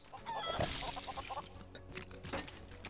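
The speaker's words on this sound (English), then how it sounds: "Wait, the chicken's attacking me." Chicken clucking in the Lego Worlds video game, a run of short, rhythmic clucks and squawks at moderate loudness over a busy background of game music and effects.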